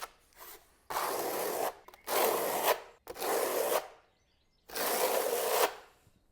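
A notched trowel drags tile adhesive across a surface in four separate raspy, scraping strokes, each about a second long, with quiet pauses between them, close and alone.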